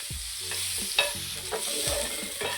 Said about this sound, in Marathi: आता आपण चिरून घेतलेला कांदा कांदा चांगला गुलाबी रंग येईपर्यंत परतायचा